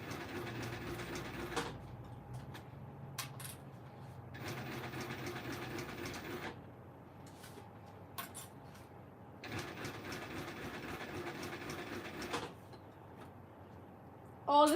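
A sewing machine top stitching a tote bag runs in three long mechanical bursts, a close, steady whirring rattle separated by short pauses and small clicks.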